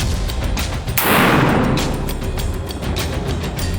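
A single loud black powder gunshot fired with Wezuvit powder and a 44 grain charge at an outdoor shooting range, a sharp blast followed by a long fading rumble over steady background noise.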